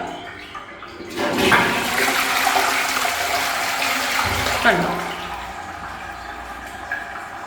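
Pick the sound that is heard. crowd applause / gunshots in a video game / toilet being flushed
toilet being flushed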